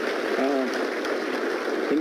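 An audience applauds an operator called onto a stage, a continuous patter of clapping with a voice speaking over it.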